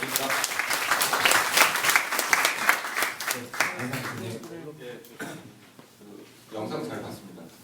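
Audience applause at a concert fills the first half as a dense, lively patter of many hands, then thins into scattered claps as voices talk over the fading sound.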